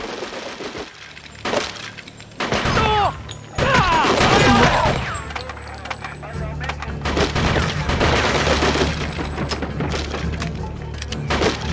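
Video game gunfire in Cold Winter, with repeated bursts of shots, crashes and breaking glass and beer bottles, loud and dense, mixed with someone speaking over the action.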